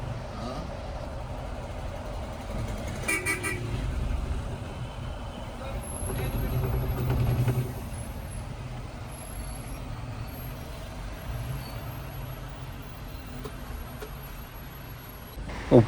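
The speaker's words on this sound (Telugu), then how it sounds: "ఇప్పుడే మన బస్సు అయితే గుంటూరు సిటీ లోపలికి అయితే డైవర్షన్ అయితే తీసుకుంటుంది" A Scania sleeper bus rolls through Guntur city traffic, its engine rumbling steadily with a hiss of air brakes, distant beeping and horns, while voices talk faintly beneath the traffic noise.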